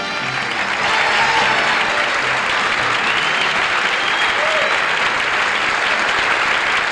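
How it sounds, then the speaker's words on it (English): Loud, sustained applause from a telethon audience greeting the 1986 poster child, a dense unbroken wash of clapping that fills the whole stretch with no voices over it. "let's have a nice round of applause for our poster child for 1986"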